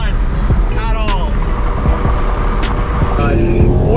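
A four-cylinder car races a V8 BMW E92 M3 on a freeway, engines droning steadily with rising gear whines and wind roar, while people talk excitedly over the noise throughout.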